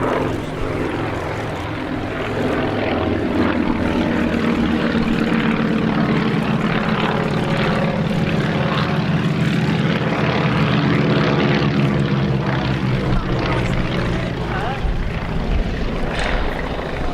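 Avro Anson Mk.I, a twin piston-engined propeller aircraft, flying at a Shuttleworth airshow, its engines droning steadily and loudly throughout with a rough, throbbing propeller beat and no talk.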